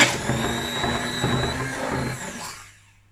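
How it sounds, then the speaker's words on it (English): A kitchen blender whirring as it blends lemon juice into wet ingredients, a steady loud motor drone for about two seconds that then cuts off and fades to silence. "And I'm gonna blend it quickly again."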